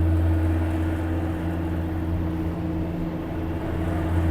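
Steady, loud low drone of a vehicle arriving at a snowy Swiss glacier station, an even rumble holding throughout with no voices.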